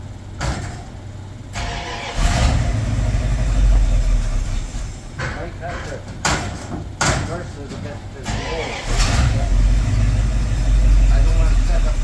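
A 1967 Bombardier wide gauge snow vehicle cranking over, catching and settling into a loud, steady mid-pitched engine run close by, with several brief clanks and door-like thumps, and voices talking over the running engine.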